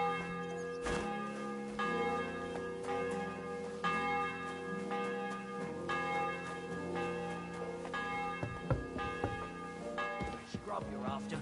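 Church bells in the medieval village of the video game Kingdom Come Deliverance 2 ring out loud and clear, several tones struck in a repeating pealing pattern with long ringing overtones that overlap one another.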